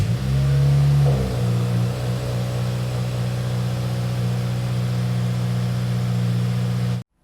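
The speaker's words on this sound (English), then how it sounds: "start the car as normal. At this point, let the car run for about 10 or 15 seconds" A Subaru WRX FA20 boxer engine turns over and settles into a steady, close idle hum, running evenly for several seconds before cutting off abruptly.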